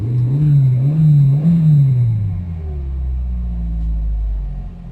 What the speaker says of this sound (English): Just give some gas.